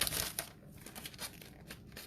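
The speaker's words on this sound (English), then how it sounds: "now with my scissors, I'm going to cut off all of the extra bits of cellophane." Scissors cut through loose cellophane on a paper-plate aquarium craft, giving a close run of crinkling, rustling snips with short pauses between them and no talking.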